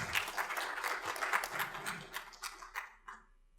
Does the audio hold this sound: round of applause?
yes